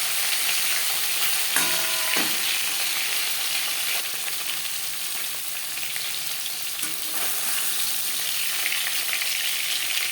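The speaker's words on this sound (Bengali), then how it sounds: "একটা সাইজ ভাজা হয়ে গেলে অপর সাইজটা উল্টে দেবে" Silver carp fish pieces fry in a pan with a loud, steady sizzle and spatter, interrupted by a couple of brief metallic clinks and scrapes as the pieces are turned.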